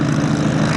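Hispano Buchon propeller aircraft taxiing at an airshow, its piston engine giving a steady, loud, pulsing drone close by throughout.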